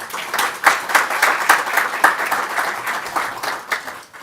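Audience applause fills a university public lecture hall, a dense steady clapping from a crowd lasting several seconds, swelling slightly then tapering toward the end.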